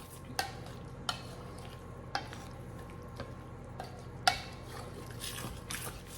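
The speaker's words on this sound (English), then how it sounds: "Now I'm just going to stir all this up and see what it looks like." A spoon stirs a thick turkey or chicken cornbread dressing mixture in a very large bowl, giving soft wet squishing with a few sharp clicks of utensil against the bowl, close and quiet.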